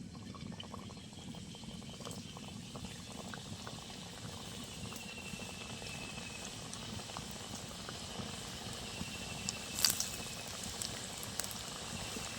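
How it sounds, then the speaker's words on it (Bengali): Khaja pastries deep-frying in hot oil give a steady, moderately quiet bubbling hiss that holds evenly throughout, with a few slightly louder pops near the end. "তেলটা খুব ভালো করে গরম করে নিয়েছি, এবার খাজাগুলো ভেজে নেব।"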